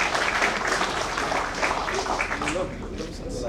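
A crowd applauding steadily at a signing ceremony, with a dense wash of clapping and voices mixed in underneath.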